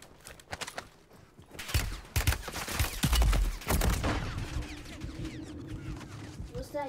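Submachine gun fire in Call of Duty Warzone 3, the Striker SMG: several rapid, loud bursts of shots clustered in the middle, followed by echoing tails and game ambience, with speech heard over parts of it.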